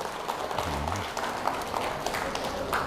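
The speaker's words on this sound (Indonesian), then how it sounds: "Tepuk tangan buat leluhur kita" An audience applauds in a hall, steady dense clapping that fills the whole span, with a brief tonal voice or sound rising under it near the start.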